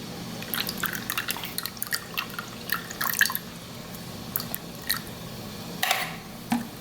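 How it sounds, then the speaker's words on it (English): Juice from canned pineapple is poured out, giving scattered wet drips, splashes and soft squishy spatters at close range that come in uneven bursts, with no talk over them. "we're just gonna go ahead and pour the juice out the pineapples."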